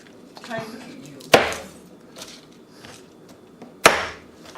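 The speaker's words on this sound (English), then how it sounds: "I'm just gonna try out this knife on some Chinese greens here" Japanese chef knife chopping Chinese greens on a board, two sharp, loud chops about two and a half seconds apart with quieter cutting and handling noises in between.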